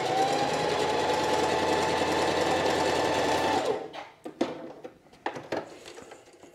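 A sewing machine stitches a seam on a sheath dress, running loud and steady for about three and a half seconds before stopping, followed by a few brief clicks and handling sounds.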